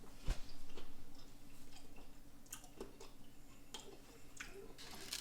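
Crunchy chips are chewed close up in steady bites, with crisp crackling snaps over several seconds and no talking.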